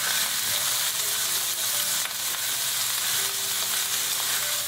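Cumin and ginger sizzle in olive oil while being stirred, a continuous close frying hiss with faint scraping touches throughout, no speech.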